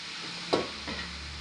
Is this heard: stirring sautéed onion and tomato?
yes